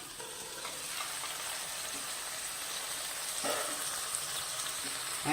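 Tandoori chicken cooks covered under a plate on a low flame, giving a soft, continuous sizzle and frying hiss with faint crackles, close and steady with no talking.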